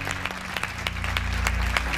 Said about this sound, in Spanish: Un aplauso, un saludo para ellos.